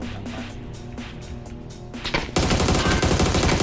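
Rapid automatic gunfire from a PUBG match bursts out in dense, loud volleys, with scattered shots at first and then a sustained barrage of overlapping fire.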